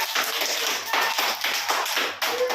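Pre-kindergarten children clap their hands together in a classroom, a series of roughly seven sharp, loosely synchronized claps in a quick rhythm, close and fairly loud with no talking between them.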